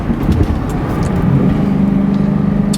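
A 1996 Ford Mustang SVT Cobra with 25,000 miles drives along, a loud steady low engine rumble heard from inside at cruising pace, no voices.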